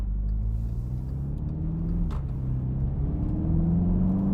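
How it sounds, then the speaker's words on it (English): A 2016 Volkswagen Scirocco GTS with a 209 bhp front-wheel-drive engine pulling while driving, heard from inside as a steady low drone whose pitch rises and shifts through the run, with road rumble underneath. "Quite a torquey engine actually."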